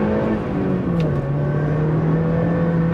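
A 1.8 Mazda MX-5 NC accelerates hard on a wet B-road, its engine note rising, dipping briefly at a gear change, then holding a steady pull, loud and close from inside.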